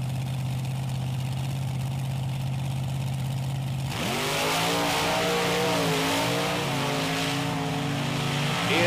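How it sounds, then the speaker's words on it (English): At a beach drag race, the monster trucks Bigfoot Cruiser and Grave Digger idle with a low steady hum, then launch into a sudden, loud, sustained engine roar with rising, wavering pitch, heard from a distance. "Lonnie Childers in the far lane in the Bigfoot Cruiser up against Dennis Anderson's Gravedigger"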